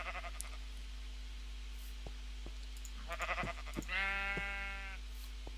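A sheep in a video game bleats several times, short wavering bleats over quiet background with soft clicks, ending in a longer, louder bleat.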